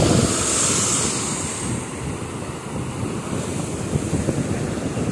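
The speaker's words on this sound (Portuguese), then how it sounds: "Ó, lá vem a onda." Ocean waves break and wash steadily onto a beach on a cool day, a broad continuous roar of surf with wind buffeting the microphone, close and loud throughout with no talking.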